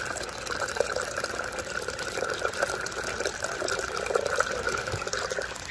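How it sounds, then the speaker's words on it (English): Water drains steadily through an aquaponics U-siphon, a continuous gurgling rush and trickle close by with no talk. "Again, this is the siphon."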